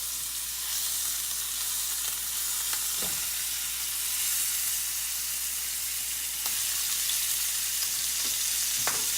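Ground beef frying in vegetable or olive oil in a pan, a steady bright sizzle throughout with occasional scraping stirs, close and even.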